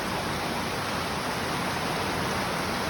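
Dense, even roar of a gorge stream with waterfalls right beside a hiking trail, loud, close and unbroken, with no voices.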